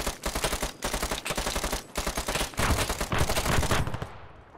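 Bursts of automatic gunfire from the Arma 3 military shooter, dense rapid volleys of machine-gun fire with brief gaps, loud and close, running nearly the whole time before cutting off at the end.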